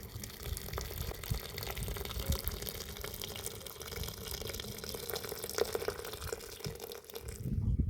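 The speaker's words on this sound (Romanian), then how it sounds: "Vom pune apă fiartă bine peste ele până acoperim aceste frunze de urzică." Boiled water is poured steadily over nettle leaves in a pot, a continuous soft splashing and gurgling that runs for several seconds at low volume, with a few brief clinks toward the end.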